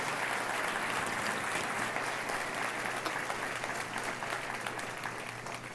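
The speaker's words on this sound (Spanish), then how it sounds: "Más fuerte el aplauso al Señor" Church congregation applauding at a worship service, a steady dense wash of clapping that holds at full strength for the whole stretch, with a faint low hum beneath and no voices over it.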